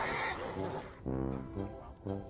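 A horse in modded Minecraft neighs in a loud, close whinny, followed by two shorter, clearly pitched neigh bursts over about two seconds, with no speech.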